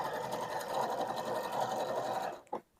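A Janome 3160 or 2030 sewing machine stitching a bridge stitch, a steady close-up mechanical whir with rapid rhythmic pulsing that stops abruptly, followed by a short clunk.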